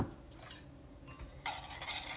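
A spoon stirs sugar, yeast and warm water in a bowl for buckwheat bread, giving faint scraping and soft clinks that grow busier and louder toward the end.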